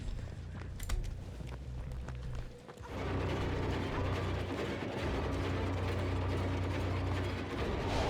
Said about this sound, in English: They are cranking these gens like crazy.